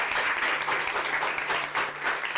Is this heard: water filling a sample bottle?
no